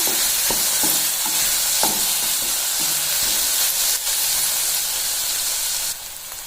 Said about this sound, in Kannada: ಒಂದು 2 ನಿಮಿಷ ಲೋ ಫ್ಲೇಮಲ್ಲಿ ಇಟ್ಕೊಂಡು ಚೆನ್ನಾಗಿ ಬೇಯಿಸ್ಕೋಬೇಕು.